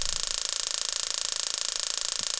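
Loading sound in the horror game Donald A Horror Story: a steady, fast mechanical ratcheting clicking, like gears turning, repeating evenly throughout at a loud level with no talk.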